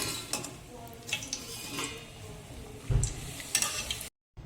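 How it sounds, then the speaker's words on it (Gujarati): Khakhra deep-frying in hot oil, a steady bubbling sizzle with occasional stirring and utensil scrapes near the pan, the frying sound continuing throughout before cutting off briefly at the end. "તો આ જ રીતે આપણે બીજા બધા ખાખરા તળી લઈશું."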